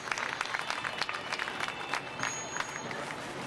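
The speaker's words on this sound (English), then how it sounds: "How about a round of applause for our conservationists?" An audience at an aquarium show claps for the conservationists, a moderately loud patter of applause with scattered sharper claps that continues evenly throughout.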